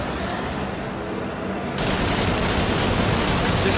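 Dense, sustained gunfire from the video game DmC, a continuous noisy wall of shots that steps up louder partway through and keeps going without pause.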